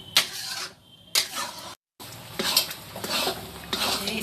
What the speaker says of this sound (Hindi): हम धीमी आंच पे चलाते रहेंगे इसी तरह से जब तक कि घी ना छोड़ दे